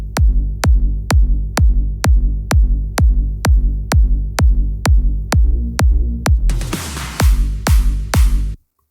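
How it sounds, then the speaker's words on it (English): Punchy electronic kick drum with pitch changes in a hard-hitting dance track, thumping at a steady, even pulse of about sixteen loud hits. A noisy sweep rises beneath the last few beats before it cuts off abruptly. "The actual overall kick sounds like this."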